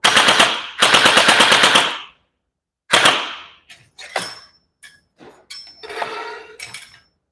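A JM Gen8 M4 gel blaster fires two loud, long rapid-fire bursts, then a shorter burst, followed by scattered single shots and faint clatter, with no talking.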